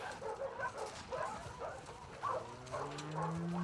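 Dog sounds from the video game The Last of Us Part 2, with low grumbles and short yelps in a steady stream, mixed with game background noise.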